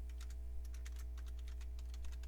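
Typing on a computer keyboard while setting up Windows 2000 build 2202 in VirtualBox, a quick run of light, even key clicks over a steady low electrical hum, close and quiet with no talk.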